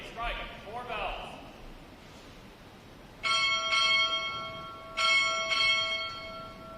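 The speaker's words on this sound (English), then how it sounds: "Time orderly, strike 4 bells." Four ship's bells ring in two quick pairs at a Navy Recruit Training Command graduation ceremony. The bright, ringing strikes sound in a large hall, with the tone lingering after each pair.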